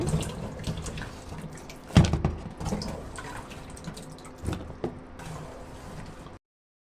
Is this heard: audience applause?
no